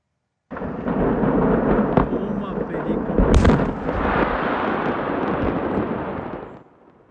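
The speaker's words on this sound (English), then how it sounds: "That is the explosion right there." A long, heavy roaring blast from the Esparto fireworks explosion and fire rumbles for several seconds with a sharp crack partway through, then fades out abruptly.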